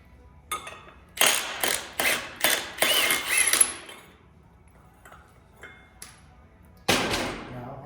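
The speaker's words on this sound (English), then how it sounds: "if you just pulse the impact a little bit" An impact wrench pulses off a bolt during a Briggs and Stratton Vanguard 250 small engine teardown, giving several short rattling bursts close by, a few faint clicks in a pause, and one final burst.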